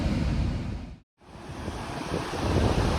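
Rough, volatile sea water with turbulent waves surging and crashing steadily, loud and close with wind buffeting the microphone, broken by a brief moment of silence midway before the surf roar returns.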